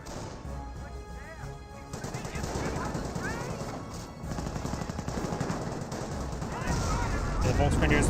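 Battle gunfire in Company of Heroes 1, infantry and snipers engaging: a steady, overlapping clatter of rifle and machine-gun shots, growing busier toward the end, with a commentator talking over it.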